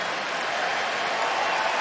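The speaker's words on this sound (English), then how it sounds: "the crowd loving the defensive effort" Basketball crowd at Rupp Arena in Kentucky, during a Kentucky versus Vanderbilt game, roaring approval of a defensive stand, a dense, steady wash of cheering and applause that swells slightly toward the end.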